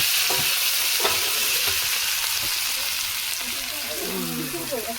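Meat frying in a pan as it is stirred for a home-cooked dinner: a steady loud sizzle with scraping and clinking stir strokes, close up, with brief faint talk in the background.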